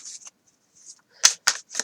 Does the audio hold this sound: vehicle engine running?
no